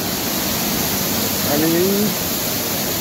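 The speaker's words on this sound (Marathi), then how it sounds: "इथे बघा एक छोटा धबधबा देखील पाहायला मिळतो आपल्याला" A small waterfall in the hills at Amboli, a steady broadband hiss of falling water filling the background evenly, with a brief voice spoken over it.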